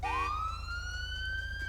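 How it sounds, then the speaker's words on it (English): A police car siren in the GTA 5 video game reactivates with a rising wail that climbs and then holds a steady tone, loud and close with no talking over it. "To reactivate the siren, just tap the horn again."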